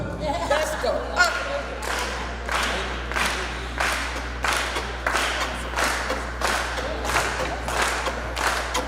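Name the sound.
group clapping on the beat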